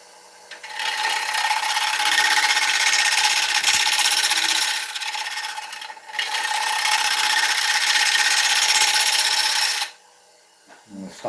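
A woodturning lathe tool works the rim of an ash bowl, making a loud, rough scraping rasp in two long passes broken by a brief pause, then stopping to near quiet, with no talk.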